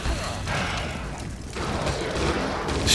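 Video-game gunfire crackles as a dense, fairly loud burst of shots with music and game noise underneath, swelling toward the end.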